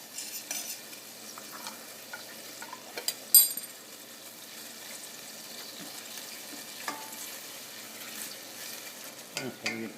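Pork tenderloin with mustard cooking in a pan on a powerful stove, giving a steady low sizzle with occasional stirring scrapes and utensil clinks, close and fairly quiet.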